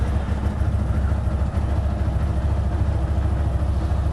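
A CFMoto Z950 motorcycle engine idles after a cold start, a steady, loud, close low rumble with a fast pulsing throb throughout and no talking.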